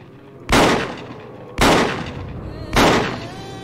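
Three loud shotgun blasts from the video game Project Zomboid, spaced roughly a second apart, each a sharp crack with a short fading tail.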